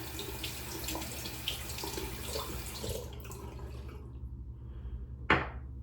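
Tap water runs into a sink to rinse off shaving soap, a steady broadband splashing that stops partway through, followed by a single brief knock or clatter near the end.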